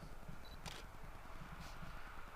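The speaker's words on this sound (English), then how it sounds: "Let's take the shot." Single-lens reflex camera shutter firing once at a riverside landscape after a storm, a brief mechanical click standing out over steady outdoor ambience of flowing water and wind.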